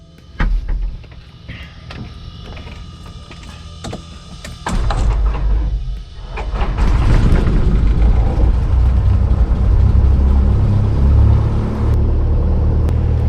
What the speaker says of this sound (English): Let's get this plane fired up, and yeah, let's make it happen. Clear prop.